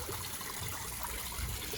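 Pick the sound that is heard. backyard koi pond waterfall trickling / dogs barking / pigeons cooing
backyard koi pond waterfall trickling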